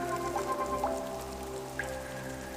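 Rain falls on leaves in a forest where hummingbirds shelter, a steady soft patter of drops with a few brighter individual hits, continuous throughout and fairly close.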